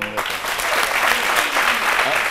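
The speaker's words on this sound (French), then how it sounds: "j'aimerais qu'on le félicite avec des applaudissements" A studio audience on a live Ivorian midday television show bursts into dense, steady applause that fills the whole stretch at full strength, close and continuous from start to finish.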